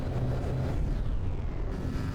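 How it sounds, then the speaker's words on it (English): Explosions from a From the Depths battleship battle between two Gimle warships: a dense, rumbling low roar of blasts that stays loud and constant, with no talk over it. "here we have some explosions."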